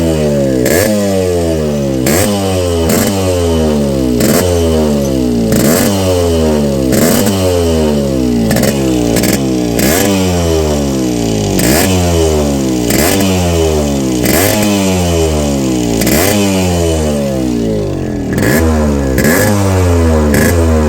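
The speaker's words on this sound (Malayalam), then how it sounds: "അപ്പോൾ ഇതാണ് വണ്ടിയുടെ സൗണ്ട്." A restored 1989 Yamaha RX-100 two-stroke motorcycle with a new piston revs again and again, close and loud. Each burst climbs and falls back in a steady, even rhythm, with a rattly idle between the revs.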